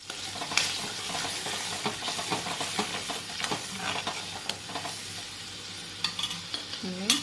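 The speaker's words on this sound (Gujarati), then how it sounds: "તેલ ગરમ થઈ જાય એટલે આપણે જીરાનો વઘાર કરીશું" Cumin seeds crackle and sizzle in hot oil for a pav bhaji tempering, a close steady frying hiss with small pops and the scrape of a stirring spoon, no talking.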